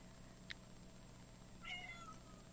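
A cat meows indoors, giving a brief chirp and then a longer, drawn-out meow, faint against a quiet room hum.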